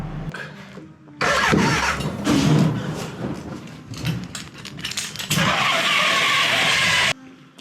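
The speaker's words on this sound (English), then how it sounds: "I heard the start of an engine" A BMW K100 motorcycle engine cranks and fires up in bursts, a loud mid-pitched roar that surges, dips and swells again before cutting off abruptly, recorded close in a workshop.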